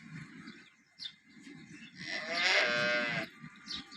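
A dairy cow, recently calved and in good condition, lets out one loud, drawn-out moo close by, with soft rustling farmyard sounds before and after.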